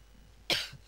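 A single sharp cough from a person playing Minecraft, close and fairly clear against a quiet background, lasting under half a second.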